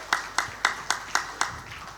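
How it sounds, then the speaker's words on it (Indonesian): An audience at an event for RS JIH Solo hospital gives a few slow, sparse claps. There are six evenly spaced hand claps, faint and somewhat distant. "tepuk tangan dulu buat beliau bertiga."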